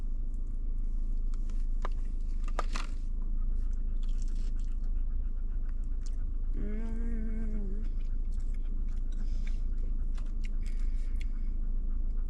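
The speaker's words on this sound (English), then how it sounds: "They're nice and crunchy on the outside." Biting and chewing crunchy savory homemade food in a restaurant, with repeated close crisp crunches over steady room noise and a brief voiced sound midway.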